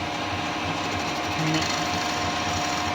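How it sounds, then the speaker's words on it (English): A metal lathe runs steadily in a workshop during a custom Harley-Davidson Sportster build, a loud continuous mechanical whir with a rhythmic buzzing hum and no pauses. "the next thing I'm going to do is on the lathe"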